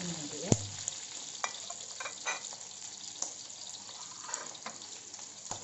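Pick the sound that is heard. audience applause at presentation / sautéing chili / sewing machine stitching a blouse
sautéing chili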